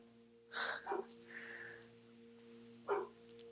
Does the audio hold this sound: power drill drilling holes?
no